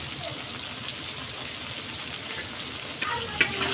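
Chopped small tomatoes sizzle steadily in hot oil in a pan while cooking a lentil dumpling kuzhambu, a close, continuous frying hiss with a couple of sharp clinks near the end.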